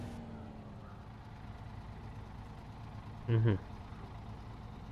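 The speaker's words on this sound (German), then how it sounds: "Kenworth hörst du ja nur den Motor" Kenworth truck engine in the off-road driving game SnowRunner, a steady low idling rumble running underneath throughout, with a brief murmured voice near the middle.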